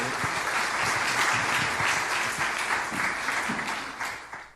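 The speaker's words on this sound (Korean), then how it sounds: "우리 이 가정을 위해서 같이 한번 격려의 박수 한번 부탁합니다." A congregation at a Thanksgiving church service applauds to encourage a family, dense steady clapping that holds throughout and tapers slightly at the end.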